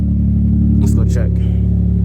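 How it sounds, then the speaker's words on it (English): A loud motor runs with a steady, heavy low drone throughout, close and constant, while a person talks over it briefly in the middle. "This motor is loud, y'all."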